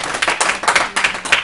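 A classroom group claps briefly on cue, a quick ragged burst of hand claps in about four loose waves, close and lively, with no talk over it.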